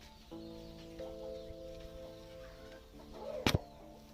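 A hen sitting on eggs for hatching clucks softly in a few drawn-out, tonal calls, with a brief sharp sound near the end; close by and fairly quiet.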